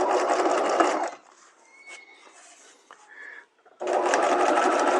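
A sewing machine runs in two loud steady bursts while stitching a neckline facing, with a quieter pause and faint handling noises between the runs.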